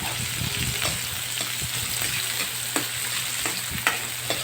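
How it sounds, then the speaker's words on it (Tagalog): Onion and garlic sizzle in a pan while being sautéed with carrots for a Bisaya-style pork liver dish, a steady close frying hiss broken by occasional scrapes and clicks of stirring. "Then, gigisa. Pagkatapos, ilagay din natin yung sibuyas at bawang."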